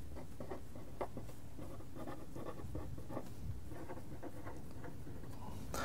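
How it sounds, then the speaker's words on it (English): Hand writing of a mathematical equation, steady scratchy strokes of pen or chalk in quick irregular bursts, close and fairly quiet, with no talking. "So let's actually write that down."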